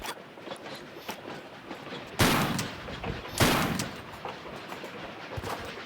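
A rifle fires in the video game Tomb Raider IV: two loud, sharp shots about a second apart, each with a short decaying tail, over a steady low rumble of background noise.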